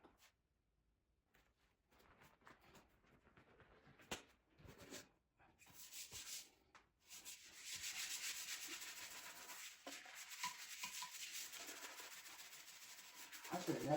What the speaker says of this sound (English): I'll scrub.